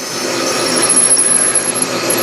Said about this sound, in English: Drilling some stainless.